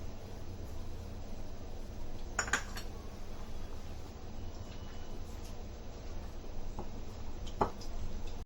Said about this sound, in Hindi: अब इसमें डालेंगे 1 अंडा, और इसमें डालेंगे कॉर्नफ्लावर, और अच्छे से मिक्स करेंगे इसको